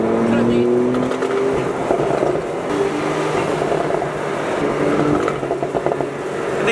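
A Porsche 911 GTS with a turbocharged engine drones from the cabin in sport mode, a steady engine and exhaust hum with shifting tonal lines, sitting loud and continuous under a voice.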